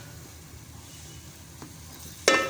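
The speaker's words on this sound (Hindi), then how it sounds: "और इसे भी अच्छी तरह हम कर लेंगे फ्राई" Ginger garlic paste frying in a pan with browned onions, a soft continuous sizzle with light stirring and a sharper burst of crackle near the end, no voices.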